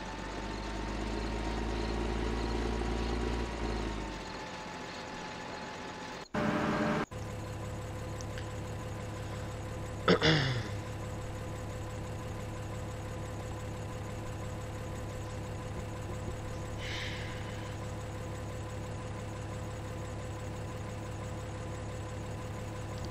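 A tractor in the Farming Simulator 2013 game working a sunflower field: a steady, droning engine hum runs throughout, louder and rougher at first, with a brief break and a sharp clunk partway through.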